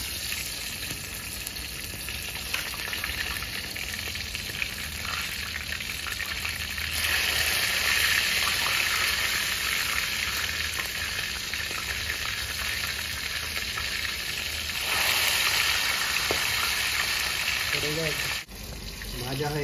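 Chicken pieces deep frying in hot oil in a village-style kitchen: a steady, close, loud sizzling hiss that swells louder midway and again near the end, with faint clinks and a brief dip just before it finishes.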